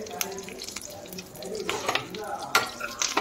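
Tempering of mustard seeds, cumin, dried red chillies, curry leaves and garlic crackling in hot oil for okra chutney, with soft sizzling, sputtering pops and a few stirring scrapes, close by.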